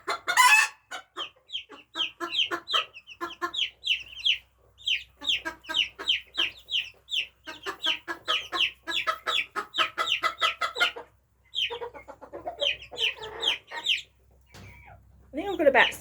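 Silkie and Japanese bantam chickens cluck repeatedly and closely in quick chirpy bursts, with a short crow near the end.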